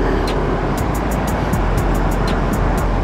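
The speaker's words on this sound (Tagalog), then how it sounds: "Pero hindi siya masyado maingay. Stock lang. Silent killer muffler." A Yamaha Nmax Techmax Turbo scooter fitted with a quiet, stock-length VMAX Racing Onyx muffler while riding, giving a steady, continuous rush of engine and wind noise with no pauses.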